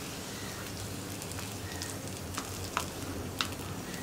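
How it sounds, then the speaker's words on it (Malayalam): Tempering added to a Kerala-style green gram curry, a faint continuous sizzle and crackle at low level with a few small pops, no talking. "ഇനി നമ്മുടെ കറിയിലേക്ക് നമുക്ക് ഈ മറവ് ചേർത്ത് കൊടുക്കാം"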